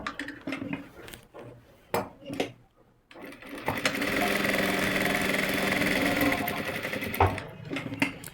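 A sewing machine whirs steadily for several seconds, slowly double-stitching a pocket onto palazzo pants, preceded by a few clicks and handling noises, with a light clatter at the end.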